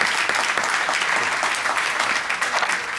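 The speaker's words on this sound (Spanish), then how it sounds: "Vamos a darle un gran aplauso a don Rafael." An audience at a tribute event applauds warmly, producing a thick, continuous crackle of many hands clapping at a steady level throughout, with no voices rising above it.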